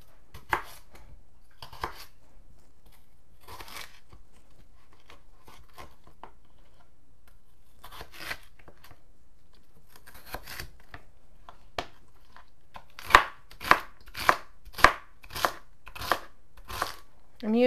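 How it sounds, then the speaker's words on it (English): A kitchen knife dices onion, carrots, celery and potatoes for a hearty stew on a cutting board, with sparse taps at first and then a quick, crisp run of close chops near the end. "Let's get chopping. Okay, we're just going to do a nice dice on everything."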